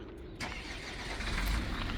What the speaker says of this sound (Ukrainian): машина заводиться легенько і без проблем